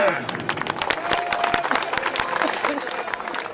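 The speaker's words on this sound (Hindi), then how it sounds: "तालियां" At a Maha Kumbh religious gathering in Prayagraj, a crowd claps in scattered, crisp bursts, with sharp individual hand slaps standing out over a murmuring background of voices.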